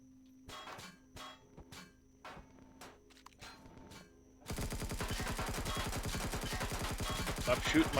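Gunfire in a video game hits the player's ship. Scattered single shots and clangs come first. Then dense, rapid machine-gun fire breaks out, loud, continuous and close, for the rest of the clip.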